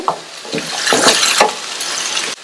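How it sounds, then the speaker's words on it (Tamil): Cabbage and peas are stirred and sautéed in a pan with a few quick scraping strokes over a soft frying hiss, close and clear with no talk. "அப்பப்போ ஓபன் பண்ணி பார்த்து வதக்கி விட்டுக்கங்க"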